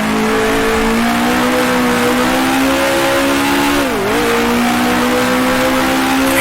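Screaming 1966 Formula One race car engines in Grand Prix Legends, a loud sustained high-revving drone that dips briefly during a downshift before climbing again, close and constant throughout with no talking.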